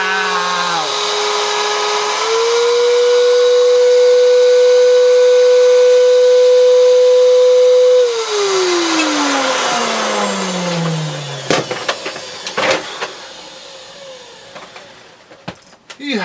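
A Purepower U3155 vacuum's turbo brush whirs loudly and climbs to a high, sustained whine. The tone then sweeps steadily down as it spins down, followed by scattered clicks and knocks at close range.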